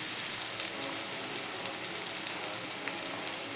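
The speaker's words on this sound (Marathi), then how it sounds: "कांदा टाकलेला आहे, लालसर होऊन घेऊया. शिमला मिरची टाकूया." Onion and capsicum fry in a pan for homemade pasta, giving a steady, close sizzle with faint crackles and no talk over it.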